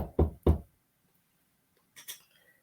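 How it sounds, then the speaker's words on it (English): Two firm knocks on a door, close and loud, followed after a pause by a softer pair of taps, otherwise quiet. "There was a knock at the door."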